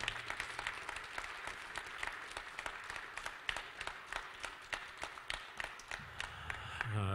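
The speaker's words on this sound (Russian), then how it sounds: "Аплодисменты." An audience applauds at the opening ceremony of a table hockey cup in an arena, crisp individual claps standing out within a steady round of clapping that continues throughout.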